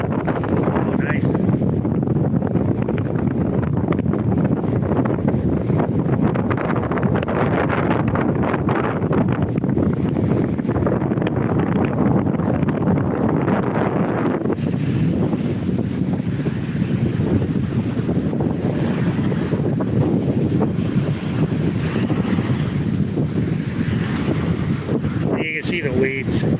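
Strong wind buffets the microphone in steady gusts on a Yucatán beach, with ocean waves rushing underneath.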